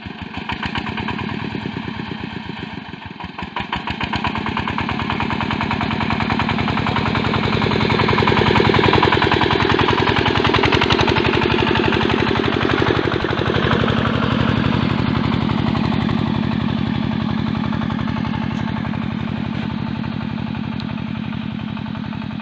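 A walk-behind motor tractor digging potatoes in a field runs steadily and loudly for the whole stretch, its engine chugging with a rapid, hammering rhythm that swells slightly midway.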